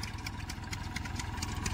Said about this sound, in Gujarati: આવે ટ્રેક્ટર હાંકીને